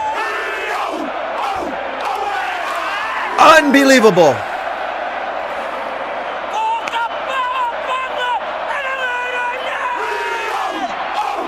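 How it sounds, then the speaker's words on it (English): Full-house South African stadium crowd at a rugby test against New Zealand, a loud roaring mass of voices rising over the haka, with a sharp surge of shouts and thuds midway and commentators talking throughout. "Listen to the South Africans drowning out the haka."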